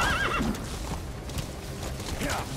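A horse neighs in Metal Gear Solid V: The Phantom Pain. A clear whinny comes at the start and another near the end, with hoof clip-clops and ambient game sound between them.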